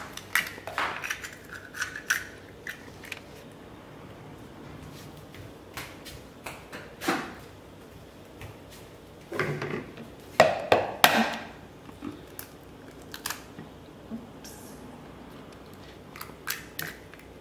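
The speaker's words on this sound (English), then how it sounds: "I like to crack the eggs, not on the table like on the plastic." Eggs are cracked on a plastic surface while making waffles with a Lego waffle maker, with scattered quiet clicks and taps and a cluster of sharper close knocks partway through.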